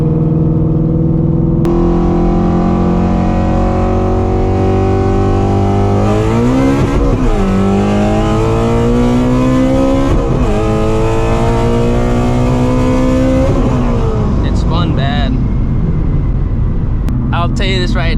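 A supercharged Shelby GT350 Mustang running E85 fuel pulls hard through the gears from inside the cabin, its loud screaming engine climbing in pitch with sharp drops at each shift, and the engine falls back toward the end.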